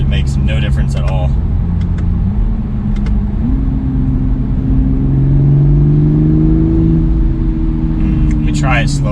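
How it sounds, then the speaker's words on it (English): Inside a Toyota A90 Supra in normal automatic mode, the engine hum climbs in pitch through a quick acceleration, a loud cabin drone with brief shifts in tone. "do a quick acceleration in normal automatic mode"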